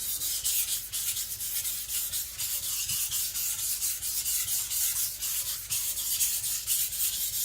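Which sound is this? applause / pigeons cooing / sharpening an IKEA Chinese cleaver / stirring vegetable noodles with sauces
sharpening an IKEA Chinese cleaver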